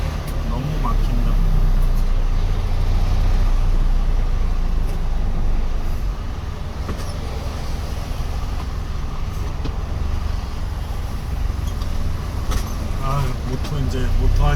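A manual-transmission car crawls through rush-hour traffic on the way to Suwon, with a steady low rumble of engine and road noise inside the cabin and a few faint clicks and passing-vehicle swells.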